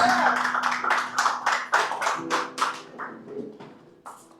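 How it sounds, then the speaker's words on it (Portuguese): Members of a church congregation clap in a sparse, loose rhythm of distinct near claps that thins out and fades, with a few scattered taps at the end. "Você pode sentar com um aplauso para Jesus?"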